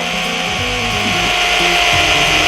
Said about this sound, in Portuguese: você vai girar aqui o mandril da sua furadeira, de preferência relativamente devagar